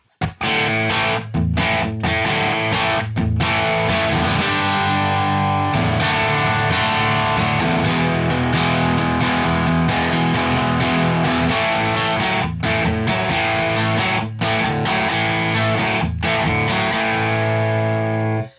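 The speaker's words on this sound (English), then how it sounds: "Here's the bridge pickup with the middle humbucker off." A Gretsch Malcolm Young signature guitar on its bridge pickup, middle humbucker off, plays through an amp with a loud, driven, distorted tone, strummed chords ringing steadily with short choked gaps between them.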